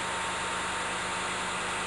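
A nearly 2,000-horsepower diesel engine driving a dredger's suction pump runs as a steady, dense drone with a low throbbing beat, loud and unbroken throughout.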